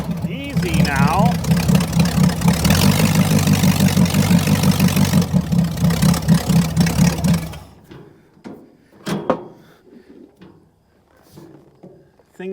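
A vintage dragster's old Buick Nailhead engine runs loud and rough for about seven seconds with a pulsing lumpy beat, then cuts off, leaving scattered clunks and voices nearby.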